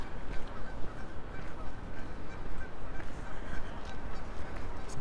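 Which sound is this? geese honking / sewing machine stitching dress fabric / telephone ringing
geese honking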